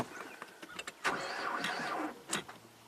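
A 2004 Nissan Maxima V6 engine cranks over in short mechanical bursts with no start, close by, with brief quiet gaps between the attempts.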